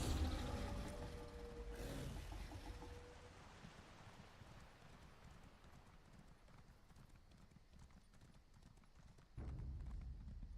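A horse's hooves clip-clop in a video game hunt, a brisk steady patter of hoofbeats at close range that carries through the whole stretch, with faint background ambience.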